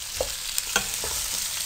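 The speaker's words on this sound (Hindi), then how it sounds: "आप इसको अच्छी तरह से भून लेना" Potatoes for dum aloo fry sizzle in a pan, a soft continuous frying hiss with a few light clinks of stirring, fairly quiet and without voices.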